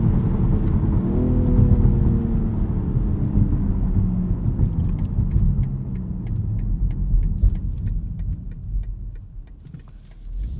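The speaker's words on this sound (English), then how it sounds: "Does a pretty good double downshift." A 2022 BMW X3 M Competition engine blips through a quick double downshift on a wet road, rev flares rising then dropping under steady road and tire rumble, loud and close with no talking.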